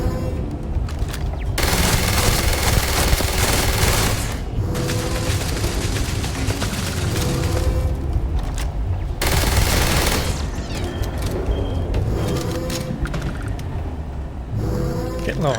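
Rapid, sustained gunfire from a weapon in the video game Starfield rattles in loud, dense bursts, pausing only briefly a few times amid mechanical clatter.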